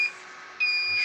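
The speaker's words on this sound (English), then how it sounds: "there's my alarm going off now." A timer alarm beeps in two short high electronic tones during rosin pressing on a Dulytek press, loud and close, with a faint hum underneath.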